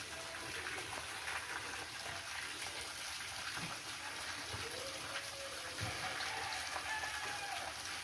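Water running and splashing steadily during cleaning of a water tank, a soft continuous gush heard at a moderate distance, with faint outdoor sounds behind it.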